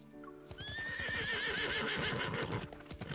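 A horse in a video game gives a long, loud whinny over steady galloping hoofbeats on capital city streets, the rhythmic clatter running throughout with no speech.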